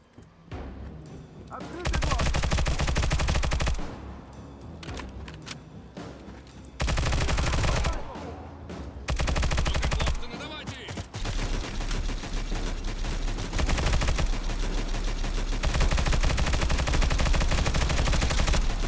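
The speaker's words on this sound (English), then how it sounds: "He's gonna shoot at you like almost constantly." Rapid, nearly constant automatic gunfire from an enemy bandit in the shooter game Stalcraft, loud bursts with short pauses as if reloading, layered with other game effects and sporadic speech.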